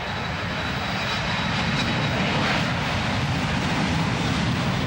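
Fast, complex private plane engine droning steadily and loudly throughout, a dense continuous roar with no pauses and no voices.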